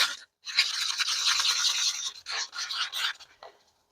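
Someone scrapes the sides of a mixing container while preparing resin for a Larimar-style piece, making several close, raspy scraping strokes in quick bursts separated by short pauses.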